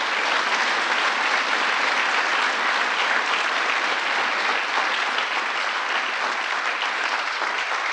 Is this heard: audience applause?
yes